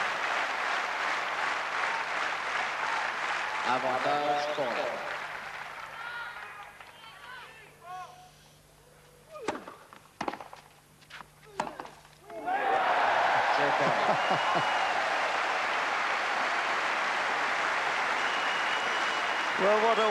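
A tennis crowd breaks into loud sustained applause and cheering for a Czech left-hander in a match against Courier, fading to quiet with a few ball hits before a second burst of clapping swells; an umpire's voice calls the score.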